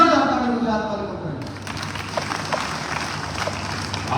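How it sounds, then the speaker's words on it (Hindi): Crowd applause welcoming a politician at a BSP and INLD joint workers' rally, with a voice fading out first, then scattered claps rising under a lively, noisy hall. "जोरदार तालियों से स्वागत करें"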